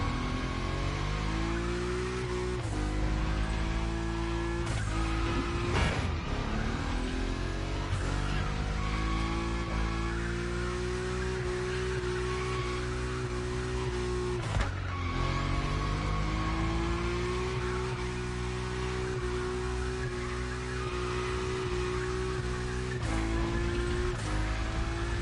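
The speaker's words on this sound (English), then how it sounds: "Your Nismo is powerful enough to slide along on its own when you're at high speed" Engine of a Nissan Nismo car in The Crew Motorfest, a loud, sustained game engine drone with shifting pitch, repeated gear changes and bursts of revving while it slides at high speed.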